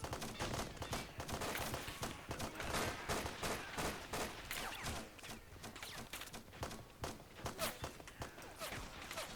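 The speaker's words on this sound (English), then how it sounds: "some explosion going off" Dense, continuous gunfire and blasts from a battle between US and Russian forces in the video game Men of War: Assault Squad 2 (Cold War mod), with sharp bursts crackling constantly and no voices.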